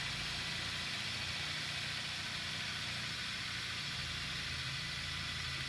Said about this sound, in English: Here's what the wobble in that buffing wheel looks like when you first get it.